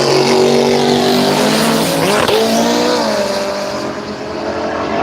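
A Mazda drag racing car launches at the Kenda Radial Drags at Willowbank, Australia, its engine screaming loud and close with rising revs and a sweep of tire squeal midway, then trailing off.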